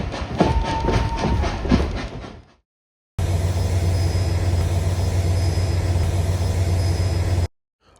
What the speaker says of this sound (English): We'll take a ride on the Reading and Northern from Nesquehoning to Pittston through the Pocono Mountains